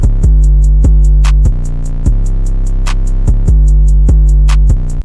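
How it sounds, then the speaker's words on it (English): Trap drum beat programmed in FL Studio with no melody on top: booming 808 kicks, steady ticking hi-hats and periodic claps in a loud, repeating loop. "Here's what they sound like all together, but no melodies over top."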